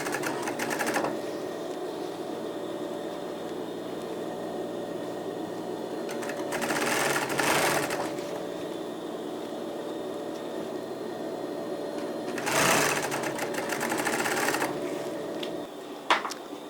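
Steady whirring hum of a sewing machine stitching continuously, with a few brief louder bursts of rattling noise along the way.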